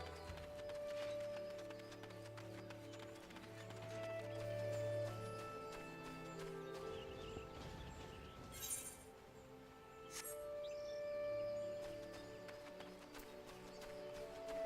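Horses' hooves clip-clopping in a video game, faint steady footfalls mixed with game music and ambience, with a brief louder clatter midway; no talking.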